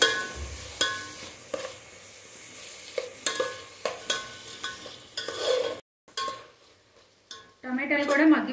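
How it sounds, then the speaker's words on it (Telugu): Tomatoes being stirred and mixed in a pan for Andhra-style uggani, with repeated scraping strokes and a soft sizzle of frying, a brief pause, then a louder burst of sizzling near the end. "టమాటో వేసిన తర్వాత అన్నీ మిక్స్ చేసుకొని అవి కొంచెం టమాటో కూడా స్కిన్ సపరేట్ అయ్యే వరకు కొంచెం మగ్గించుకోండి"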